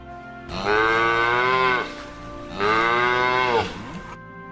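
Two long, loud cow moos, each several seconds, separated by a brief pause.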